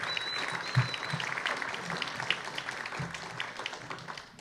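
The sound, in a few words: audience applause for candidates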